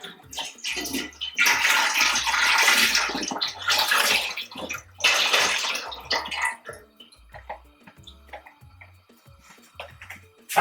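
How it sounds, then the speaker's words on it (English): Vegetable broth pours into a large pot on high heat, splashing and gurgling loudly in a few bursts, then trailing off into quieter drips and light clinks. "to a large pot, we're gonna put it on high heat and place in our vegetable broth"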